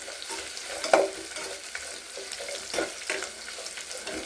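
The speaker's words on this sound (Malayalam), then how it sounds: "ഇനി നന്നായിട്ടൊന്ന് ഇളക്കി കൊടുക്കുക." Rambutan pickle with garlic being stirred in a pan, soft scraping and sizzling with a few clinks of the spoon, moderately close and without talk.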